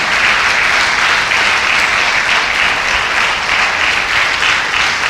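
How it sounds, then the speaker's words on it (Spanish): Sustained, dense applause from a church congregation fills the space, loud and steady throughout with no pauses and no talking over it. "Dele otro aplauso al Señor."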